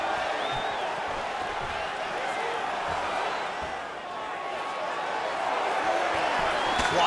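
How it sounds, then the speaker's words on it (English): A large arena crowd in the video game UFC 4 murmurs and swells with rising oohs during a fight, a constant roar of many voices with faint whoops over the noise. "You hear this crowd just eating out of his hand, oohing and on every time he advances"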